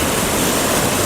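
A rain-swollen river rushes past near a Shiva temple, a dense, steady roar of churning water, loud and continuous with no voices.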